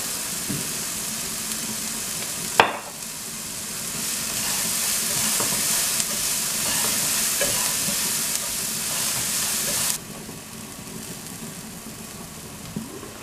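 Tofu moilee with turmeric frying in a pan, a steady broadband sizzle filling the clip with occasional clinks of a utensil, loud and close until the sizzle drops off sharply near the end.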